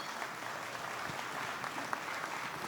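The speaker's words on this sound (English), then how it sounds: "let's give Linda a little round of applause" At an investment dinner, a room of guests claps in a dense, even patter that holds steady for a few seconds, moderately loud and without speech.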